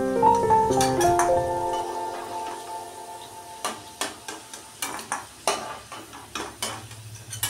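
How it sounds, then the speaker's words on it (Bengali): Potatoes fried to a reddish brown in oil are stirred in a pan, giving a run of rhythmic scraping knocks after a stretch of background music, with a soft sizzle beneath. "দেখো আমার আলুগুলো ভাজা হয়ে গেছে লাল লাল করে।"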